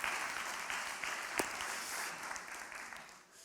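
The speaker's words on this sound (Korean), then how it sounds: "우리 한번 축복의 박수 한번 해줍시다" A church congregation of a young adults' group claps in a brief, steady round of applause that fades toward the end, with a single sharp clap standing out midway.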